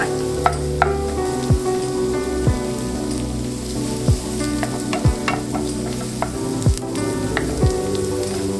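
Garlic sizzles steadily in a hot pan for sangria salmon, a continuous frying hiss broken by repeated sharp clinks and scrapes of a utensil stirring against the pan.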